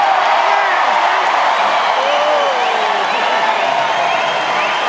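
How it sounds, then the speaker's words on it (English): A concert crowd in a large arena at a show fills the air with sustained applause and cheering, whoops and whistles rising through a dense, continuous roar. "I'm not sure what you're clapping for"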